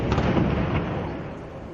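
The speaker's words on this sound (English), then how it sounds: "For several hours, gunfire, grenades and heavy weapons could be heard." A loud, dense roar of grenade explosions, heavy weapons and rapid gunfire during a police siege in Saint-Denis, Paris, booming continuously and rumbling away as it fades slightly.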